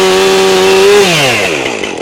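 A chainsaw on raw land sounds loud and close with a high, steady engine whine that drops in pitch after about a second as it winds down.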